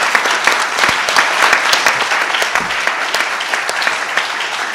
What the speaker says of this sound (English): if you could join me in a round of applause for our panelists.